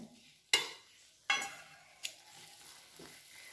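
Dharwad peda mixture being stirred and roasted in a pan, a few distinct scraping strokes spaced about a second apart, each fading out, over a quiet, faint background.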